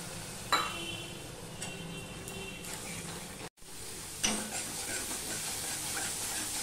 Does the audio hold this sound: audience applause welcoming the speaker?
no